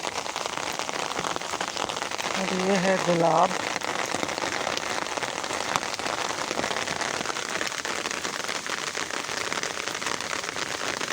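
Steady rain patters on surfaces outdoors in a garden with roses, a dense close hiss of drops with water running, continuing throughout while someone briefly speaks.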